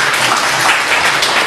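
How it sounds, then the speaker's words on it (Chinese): Sustained applause from a lecture audience welcoming a guest speaker at Tsinghua University, a steady dense wash of many hands clapping close and fairly loud throughout, with no voices over it. "咱们大家以热烈的掌声对司马老师表示热烈的欢迎"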